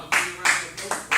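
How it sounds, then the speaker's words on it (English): Someone in an audience at a political launch event gives a few slow, scattered half-hearted claps, about four distinct claps spaced evenly, fairly near and alone. "As somebody's half clapping back there."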